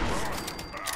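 A sharp burst of gunfire in Fallout 76, loud and close, with a brief rattling tail.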